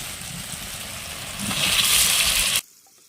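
Water poured into a pan of spiced egg and potato curry, a rushing gush that swells louder over a sizzling base for about a second before stopping abruptly.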